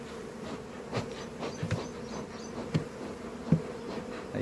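Honeybees hum steadily around a two-story wooden beehive, a close, continuous buzz with individual bees passing louder now and then.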